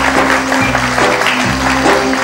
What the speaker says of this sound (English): I would like to all of you to join me in applauding our 4 panelists for a wonderful job they have done.